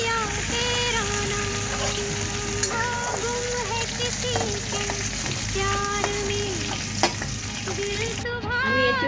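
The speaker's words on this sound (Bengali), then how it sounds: "এঁচোড়টা কিন্তু আমি সেদ্ধ করিনি, এটা লাল লাল করে খালি ভাজব" Jackfruit pieces fry in hot oil in a home kitchen with a steady, close sizzle and occasional stirring, while music with a singing voice plays loudly over it.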